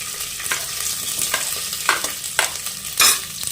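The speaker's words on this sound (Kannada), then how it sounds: "ಈರುಳ್ಳಿ ತೊಗೊಂಡು ಇದು ನೀಟಾಗಿ ಫ್ರೈ ಆಗಲಿ" Medium onions frying in a pan for chilli chicken, a steady close sizzle punctuated by several spatula stirs and scrapes at a regular pace, with no speech.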